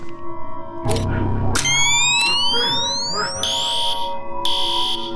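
Video game alarm blaring in an abandoned Disney-style forest setting: bright electronic ringing tones with rising sweeps, sounding in loud repeated bursts, close and alone.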